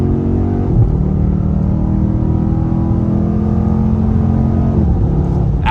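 A Dodge Durango SRT 392 V8 in track mode revs up and holds a deep, loud, throaty roar close by, ending with a brief blip, no voices.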